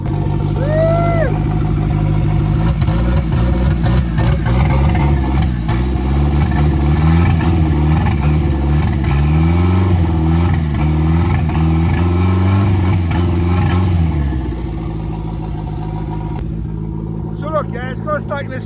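A Ford Fiesta RS Turbo engine runs close by after restoration, a loud steady idle with rhythmic low throbbing and occasional revs, while a person talks over it before the engine noise drops near the end.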